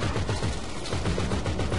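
Rapid automatic gunfire rattles continuously in the video game GTA 5 Online, loud bursts in a dense rhythm with no pause.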